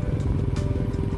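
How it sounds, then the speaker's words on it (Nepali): A motorcycle engine runs with a close, steady, low rumbling throb for just over a second. "यो बाइकले चाहिँ एकदमै राम्रो आवाज दिने क्या"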